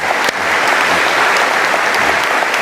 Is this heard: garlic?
no